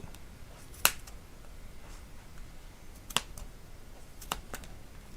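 Scissors snip through yarn wrapped around a plastic pom-pom ring for a crochet hat, giving three sharp separate cuts spaced a couple of seconds apart, close and fairly quiet over soft room noise.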